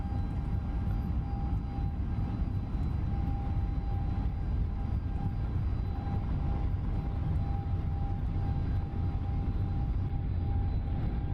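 FSLabs Airbus A321neo engines spooling on the takeoff roll in Microsoft Flight Simulator 2024, a steady, loud jet roar with a low rumble and a thin constant whine throughout.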